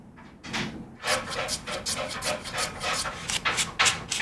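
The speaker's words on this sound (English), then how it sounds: "There's always sanding." Sandpaper rubs against wood while a violin is being built, a close series of roughly a dozen rhythmic back-and-forth rasping strokes after a short pause.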